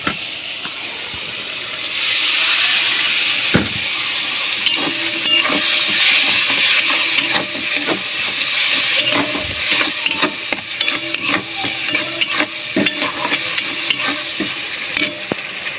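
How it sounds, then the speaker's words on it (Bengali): Chili powder and turmeric with a splash of water sizzle and fry in a pan for a Bengali fish curry, with steady close hissing and repeated scraping of a spatula stirring against the pan. "এর মধ্যে এবার সামান্য কিছু মশলা দিয়ে দেবো, লঙ্কা গুঁড়ো দিয়েছি, হলুদ গুঁড়ো, জল দিয়ে মশলাটা একটু কষিয়ে নেব।"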